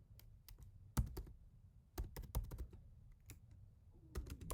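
Fingers tap out an order-delivery note on a computer keyboard in irregular quick clusters of soft, close keystrokes separated by brief pauses, fairly quiet overall.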